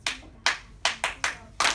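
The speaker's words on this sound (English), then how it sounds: "I'm gonna get you guys attention by the hand clap." Six sharp hand claps ring out close and loud in an irregular rhythm, made by a teacher calling a class to attention, with no talking.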